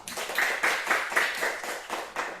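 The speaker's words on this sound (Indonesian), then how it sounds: "sekarang tepuk tangan untuk kelompok pertama" A school class claps for the first group in a lesson, a rhythmic, fairly even run of clustered claps pulsing about twice a second at moderate volume.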